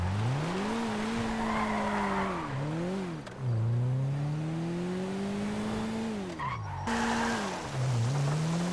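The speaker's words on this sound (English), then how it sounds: "Let's see how fast this car is." A fast car engine revs and rises and falls in pitch with tire squeal and skidding, loud and close, throughout with brief dips between runs.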